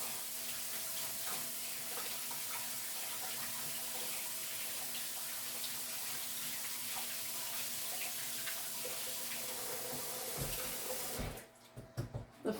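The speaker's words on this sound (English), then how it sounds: "So I'm just going to take a second to wash off my hands." Tap water running steadily into a sink while hands are washed, a continuous close hiss that stops near the end, leaving a few faint knocks and drips.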